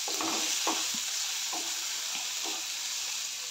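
Onion, tomato and turmeric are stirred and sautéed in a pan for an okra curry: a soft, continuous sizzle broken by a steady rhythm of spatula scrapes, close and moderately quiet.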